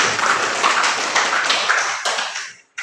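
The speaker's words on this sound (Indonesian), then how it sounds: "Ya, tepuk tangan buat semuanya." Students clapping together in a classroom, a dense continuous patter of hands, fairly loud and near, that tapers and cuts off abruptly near the end.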